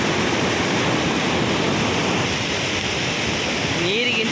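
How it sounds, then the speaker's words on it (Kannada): The Shimsha river near Kunigal rushes past in a loud, dense, unbroken roar of flowing water, close by and filling the whole clip, with a faint higher whistle near the end. "ಹೇಗೆ ಹರಿಯುತ್ತೆ ಇಲ್ಲಿ ನೀರು ಅಂತ ನೋಡ್ಬೋದು"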